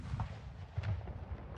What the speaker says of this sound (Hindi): वहीं बांग्लादेश में 53वां विजय दिवस तोपों की सलामी के साथ मनाया गया।